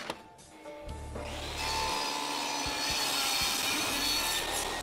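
A saw blade bites into the edge of a wooden board, nibbling off a thin strip, and the motor's whine rises into a loud, steady cutting roar that holds to the end.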